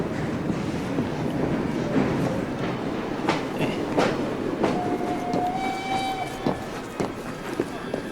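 Train in the Assassin's Creed Syndicate video game rumbling steadily throughout, with clatter, a brief high whistle-like tone midway and scattered game effects, while a person talks over it.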